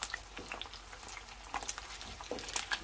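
Tortillas with cheese fry in plenty of oil, giving a steady close crackling sizzle with scattered sharper pops, moderately quiet and without speech.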